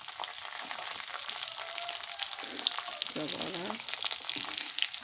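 Coconut pieces and small onions fry in hot oil in a pan for a prawn dish, giving a steady close sizzle with light stirring throughout, while a voice speaks briefly over it.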